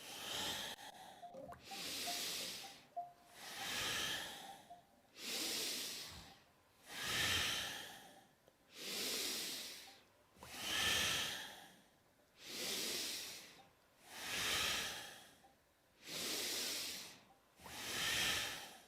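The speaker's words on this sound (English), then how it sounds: "inhaling, full inhale, exhale, inhale, exhale, inhale, continue" Deep yoga breathing in a chakra session: slow, even cycles of inhaling and exhaling, each breath a long airy hiss close to the microphone, repeating about nine times with no talk.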